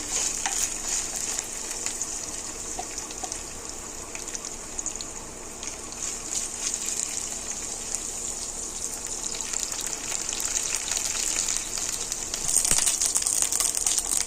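Ginger paste fries in a hot pan while making boti fry, giving a steady, close, continuous sizzle with bright hiss throughout and a brief louder flare near the end; no talking.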